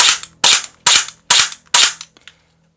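A full-metal P365 X-Macro blowback airsoft pistol dry firing without BBs: five sharp, loud, close snapping cracks in quick succession, each with a brief metallic slide clack, then a couple of faint clicks.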